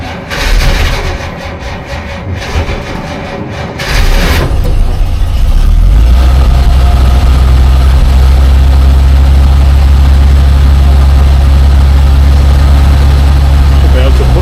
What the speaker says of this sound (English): Should be able to put the choke in a bit, just a little bit.